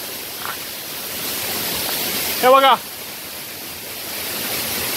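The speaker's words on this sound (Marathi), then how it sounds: "धबधब्याच्या जवळ आलोय मी आणि इथे अक्षरशः पाणी उडतं अंगावर" Water splashes and roars at the Navlai waterfall, heard up close as a constant hissing wash, with a voice speaking briefly partway through.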